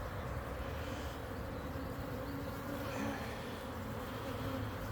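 Honeybees at an open hive during an April apiary inspection, a dense, steady buzzing hum that fills the whole stretch at close range, with no talk over it.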